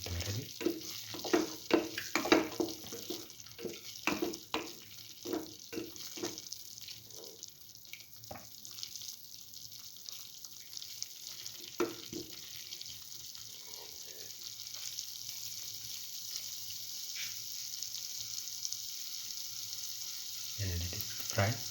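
Potato and coconut stir fry sizzling in a pan, a steady frying hiss with scattered crackles and occasional stirring clatters, louder and busier at first then settling into a quieter, even sizzle.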